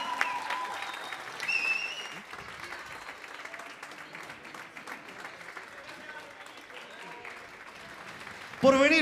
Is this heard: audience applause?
yes